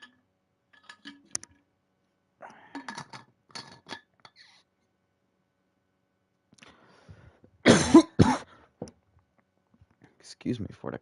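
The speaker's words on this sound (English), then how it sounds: "Excuse me for the cough." A person coughs in a loud, close burst of two or three hacks, with scattered faint clinks like a glass or drink being handled earlier and a brief rustle afterward.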